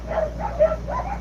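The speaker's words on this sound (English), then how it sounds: "Can y'all hear my dogs?" Several dogs bark and yip at a distance, muffled and overlapping in short bursts over a steady low hum, as if heard from inside a house.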